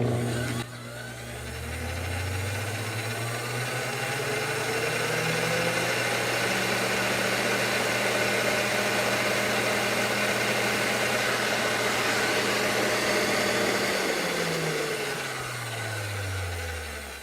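A Kenwood KMix KMX93 stand mixer motor whirs up steadily through rising pitch to a high, constant whine at maximum speed, holds for several seconds, then winds back down; close, no talking.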